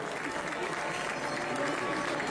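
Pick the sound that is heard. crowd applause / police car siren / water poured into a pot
crowd applause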